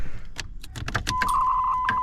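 Car keys jangle and click in the ignition of an older car as they are turned, a few metallic rattles followed by a steady electronic chime ringing underneath.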